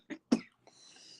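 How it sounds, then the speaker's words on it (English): Two short, sharp coughs close to the mic, followed by a breathy exhale. "all of a sudden I'm having like this cough attack"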